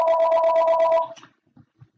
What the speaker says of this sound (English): I'm sorry about the phone again.